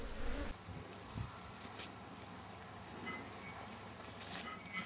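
Honeybees buzzing around a beehive, a soft continuous hum of many insects close by, with individual bees droning past and faint light knocks.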